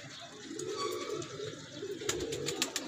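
A Teddy breed pigeon coos softly and steadily, close by, followed by a few light fluttering or tapping sounds near the end.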